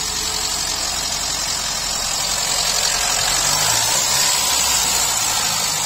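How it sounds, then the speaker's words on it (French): A 1997 Ford Ka engine idles after starting on a weak battery, a steady, loud mid-pitched running drone with faint vibration that continues evenly throughout, with no voices over it. "elle a démarré quasiment au quart"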